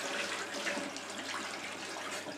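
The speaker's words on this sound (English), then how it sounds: "into the sink, gently turn the water on. We don't want any splashes." Water runs steadily from a sink tap in a soap-making setup, a continuous even splashing stream, close and moderately loud.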